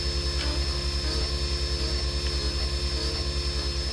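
A motor spinning slightly larger blades at mid RPM, set to three-quarter gain, gives a steady, loud droning whine with a pulsing low hum throughout, close and continuous with no talking.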